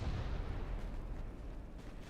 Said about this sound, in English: Guess a couple ships are firing at the battleship.